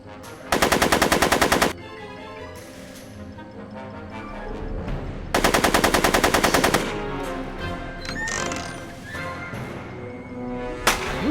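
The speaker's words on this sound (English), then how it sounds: "You shooting at me? Are you shooting at me?" Rapid machine-gun gunfire in a Back to the Future video game, two loud sustained bursts separated by a pause, with horse whinnies, hoofbeats and scattered crashes around them.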